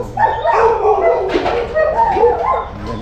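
Excited pet dogs bark, yip and whimper in a close, busy jumble that runs without pause, with harmonic yelps rising and falling throughout.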